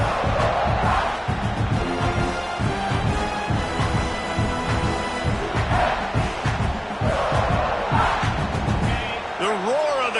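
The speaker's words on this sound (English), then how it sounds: "Crowd trying to fuel this defense to keep them pinned in their own end" A stadium crowd at a football game roars steadily, rising and swelling as the home fans rally their defense, a dense wall of cheering and shouting throughout.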